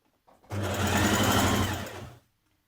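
A sewing machine runs in one continuous burst of fast, even stitching on a tunic bodice's side seams, close and steady for under two seconds before stopping, with no talk over it.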